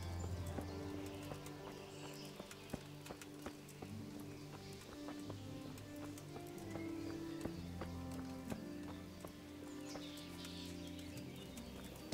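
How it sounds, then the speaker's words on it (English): A horse in Kingdom Come: Deliverance galloping with continuous hoofbeats under a sustained musical score, with faint birdsong in an outdoor countryside setting. "Now I need a horse."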